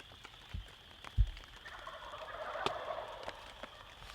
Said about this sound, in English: we started hearing those toms wake up